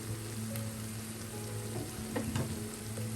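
Brinjal and potato stir fry sizzles in a covered pan over low flame, a steady, close crackling hiss with small pops and a brief stir-like scrape near the end.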